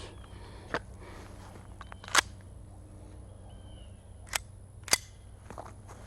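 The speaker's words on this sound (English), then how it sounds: "Let's shoot more 22s." A .22LR rifle fires several sharp, separate cracks at irregular intervals, fairly close, over a quiet low background rumble outdoors.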